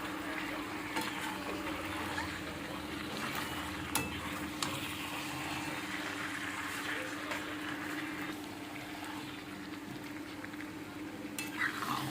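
Chicken pieces sautéed with salt and garlic in a pan for a light chicken curry, giving a continuous close sizzle and frying hiss with stirring scrapes and occasional clinks throughout, under a steady low background hum.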